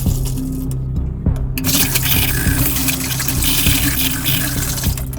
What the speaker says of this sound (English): The water's coming through the tap and it's not dropping out the bottom